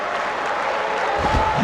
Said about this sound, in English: Now a ball hit foul off to the right and up into the crowd.